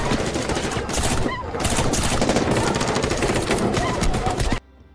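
A burst of machine gun fire erupts in a war film as a squad battles infected wolves in a conflict zone after throwing grenades. The rapid, loud fire is dense and sustained, then cuts off abruptly near the end.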